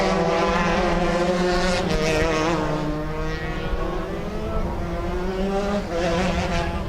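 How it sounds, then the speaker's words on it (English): Open 125cc shifter karts race past in a close pack, a dense, sustained whine of high-revving two-stroke engines with pitch that rises and falls as they shift and pass, loud and unbroken throughout. "That's Tandon in front of Kaufman after one lap."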